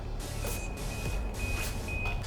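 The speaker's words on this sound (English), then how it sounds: "It will actually start beeping when you've hit the max speed." Voyager Space Shoes, electric motorized shoes with a 6 mph top speed, emit a steady repeating electronic beep at max speed, the tones pulsing regularly over a continuous rolling motor and ground rumble.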